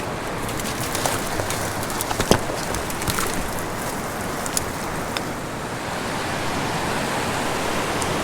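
A river rushes steadily below tree-bridged cliffs in a remote wild canyon, a dense, even roar of flowing water with no talk, constant and fairly close throughout.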